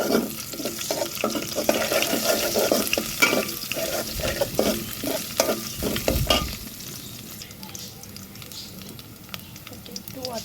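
Ginger and garlic sizzle and fry in a pan while being stirred, with close scraping of the spoon over a constant crackle that softens toward the end.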